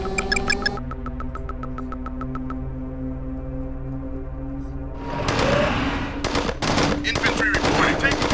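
Rapid machine-gun and rifle fire from a real-time strategy video game battle, a dense run of repeated shots that grows louder and more chaotic in the second half with overlapping bursts and impacts.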